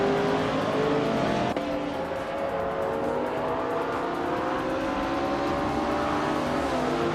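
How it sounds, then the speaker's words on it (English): A 2001 TVR Tuscan-S races among other cars at Sentul International Circuit, with loud, continuous engines droning and shifting pitch as the cars accelerate through gears, sustained throughout at close range. "the race is underway here at Sentul International Circuit"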